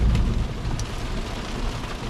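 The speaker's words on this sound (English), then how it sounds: "It's thunderstorming out there." Heavy thunderstorm rain, with hail, pelts a vehicle windshield in a continuous dense patter, with low rumbling underneath and a few sharper hits, loud and close, no talking.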